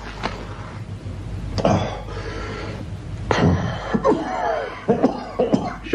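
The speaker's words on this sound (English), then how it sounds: "Should you be smoking with that cough?" Hoarse bronchitis cough from a man in a radio drama, a few sharp close coughing fits separated by pauses, with breathy throat sounds in between.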